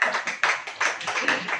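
A church congregation claps in unison, a steady run of sharp, fairly quick claps in a reverberant hall, rising and falling slightly in strength.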